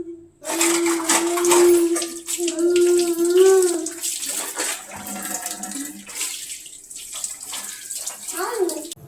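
Water splashes and runs over brass pooja vessels being washed by hand, a steady close wash with clinks and swishes filling the whole stretch, and a voice speaking briefly partway through.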